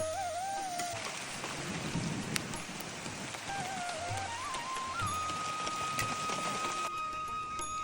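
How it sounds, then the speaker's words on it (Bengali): Steady rain falls outdoors at a farmhouse during open-air cooking, a dense continuous patter throughout with a few faint tones above it and no talk. "এই দেখেন বৃষ্টি কিভাবে আসে ওইখানে এখন বৃষ্টি আছে অলরেডি আমাদের এখানে পড়া শুরু হয়ে গেল"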